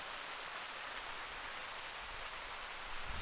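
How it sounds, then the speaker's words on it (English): Heavy rain begins to pour down outdoors at an archery shootdown finals in Metropolis, Illinois, a steady broadband hiss of downpour with no talking, continuous and fairly loud throughout. "Here comes the rain."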